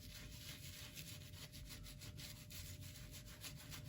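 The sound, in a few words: brush scrubbing glaze onto Anaglypta wallpaper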